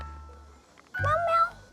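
A cat gives a single clear, close meow that rises and falls, following a quiet stretch with a few faint sounds beforehand.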